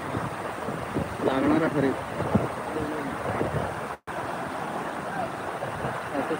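Water crashes down forcefully at Sawatsada waterfall near Chiplun, foaming through the valley, heard as a constant moderate roar with someone speaking over it and one brief dropout.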